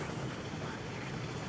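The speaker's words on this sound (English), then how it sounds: "You can hear the noise of the flow of the water." Steady rushing water at a lake in front of Tel 'Artal fills the clip with a broad, even wash of noise, mixed with some wind buffeting.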